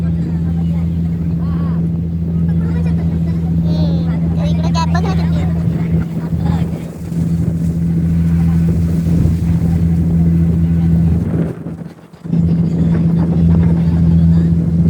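A boat's motor hums continuously and close while riding near Karanja jetty, with wind buffeting the microphone and a brief dip near the end; people talk over the engine noise.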